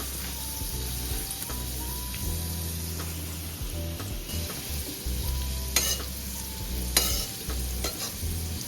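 Coconut dry-roasts in a pan for masala, giving a steady soft sizzle and crackle with repeated scraping and stirring strokes, close and fairly quiet, with no one talking.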